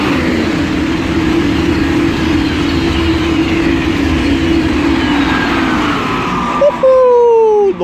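A high-speed train passes Ebbsfleet International on HS1 with a loud, steady roar of wheels and motors, close by throughout, ending in a rising whine as it goes.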